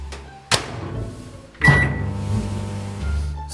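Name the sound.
microwave oven heating a jar of wax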